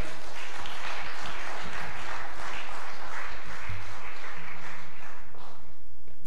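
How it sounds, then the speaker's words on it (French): A church congregation claps together for a sustained stretch, a dense, steady patter of many hands that fades slightly toward the end, with no clear talking over it. "Est-ce qu'on peut applaudir le roi ce matin?"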